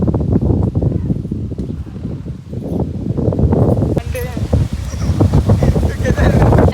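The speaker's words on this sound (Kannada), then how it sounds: "ವಿಪರೀತ ಗಾಳಿ ನೋಡಿ ನಮ್ಮನ್ನೇ ಎಳ್ಕೊಂಡು ಹೋಗೋ ಥರ ಇದೆ" Loud, gusty wind buffets the microphone continuously, with roaring bursts and rustling through trees, while a person talks underneath.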